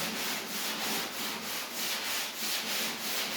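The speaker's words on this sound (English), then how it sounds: "I sand all the way." A sanding block rubs by hand over a body filler repair on a dented panel, making a close, steady scratching rasp in regular back-and-forth strokes with no talking.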